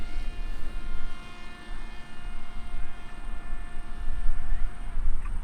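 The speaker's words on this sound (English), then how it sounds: "So the aeroplane's climbing." Fixed-wing FPV drone climbing after launch, its motor giving a steady whining drone with faint tonal harmonics over wind rumble, moderately loud and continuous.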